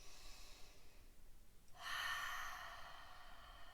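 One deep breath during a gentle shoulder exercise: a soft, airy intake swells in the middle and then eases off, close and quiet, with no talking.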